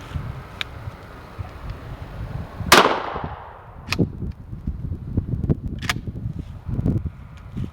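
A Remington 870 Police Magnum with a 20-inch barrel fires one loud, sharp 12-gauge blast of double-aught buckshot at a 10-yard outdoor range. The report rings briefly, with wind and small knocks around it.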